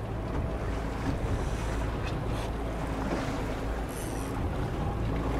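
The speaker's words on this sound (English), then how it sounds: "Look, going into these waves" Fishing boat running through waves on the Great Lakes while salmon trolling, a steady loud wash of hull and water with heavy wind buffeting the microphone throughout.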